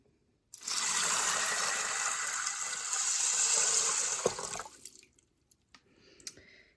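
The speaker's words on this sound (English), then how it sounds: "We are now going to be adding 8 cups of water." Water pours in a steady gushing stream into an Instant Pot holding beans for baked beans, loud and close for about four seconds, then tapers to a few drips.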